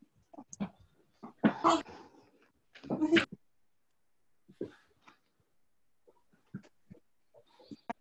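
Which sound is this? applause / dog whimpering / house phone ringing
dog whimpering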